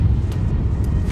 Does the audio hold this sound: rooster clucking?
no